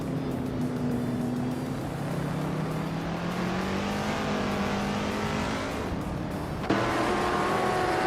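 Race cars in a video game roar past close together, with engine tones rising and falling as they jostle for position, and a sharp jump in loudness near the end.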